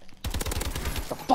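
Rapid automatic fire from an EMP3 gun in Call of Duty: Advanced Warfare, a steady stream of close, punchy shots with a brief gap near the end.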